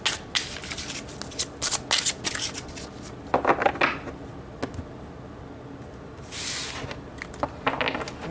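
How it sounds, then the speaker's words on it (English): Tarot mediumship cards are shuffled by hand in repeated riffling bursts, close and crisp, with softer handling and a final flurry as cards are pulled, no voices. "So let's pull some mediumship cards to see the main message"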